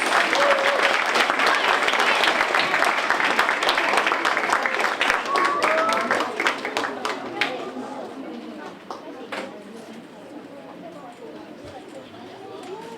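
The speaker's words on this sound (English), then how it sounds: "Give them a very, very, very, very big round of applause" Audience at a school creative arts evening applauding dancers about to perform Swan Lake, loud sustained clapping with cheers that fades after several seconds into murmuring chatter and scattered claps.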